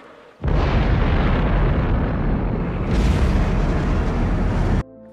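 A person's voice imitates a nuclear explosion: a long, loud, breathy roaring rush like a leaf blower, held steady for over four seconds, then cut off abruptly.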